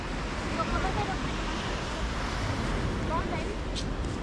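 Sea waves wash onto a beach near Somnath in Gujarat, a steady loud surf roar with wind buffeting the microphone, faint voices underneath.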